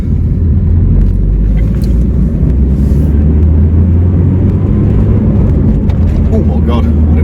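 A Peugeot 309 1.9 diesel with 64 horsepower pulls under acceleration, its loud, steady low engine drone and road rumble filling the cabin throughout while people talk over it.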